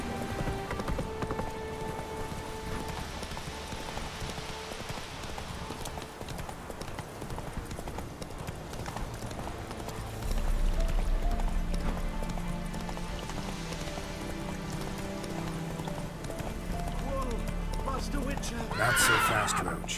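Hooves clip-clop steadily as the horse Roach gallops in The Witcher Wild Hunt, with neighs and whinnies rising over the run and game characters talking throughout.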